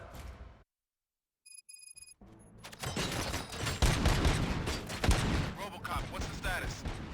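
Gunfire in the video game RoboCop: Rogue City: a dense burst of rapid shots and crackling impacts after a short beeping tone, loud and continuous, with a voice mixed in.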